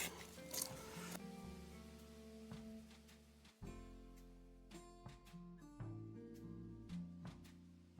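Close, rough rasping of a blade working through wood in uneven strokes, with brief pauses and scraping bursts.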